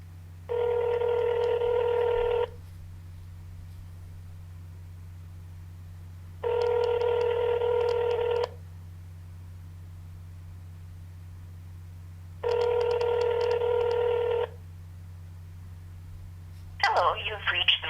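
A telephone call being placed at an office: a ringback tone sounds in three evenly spaced two-second bursts over a low steady hum, followed by a brief click as the line connects.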